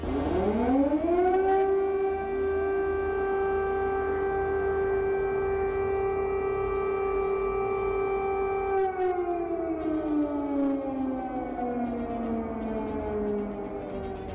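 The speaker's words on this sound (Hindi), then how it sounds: "रात भर शहर में सायरन बजता रहा" An air raid siren in a Ukrainian city during a missile attack at night rises to a long sustained wail, holds steady, then slowly winds down in pitch near the end.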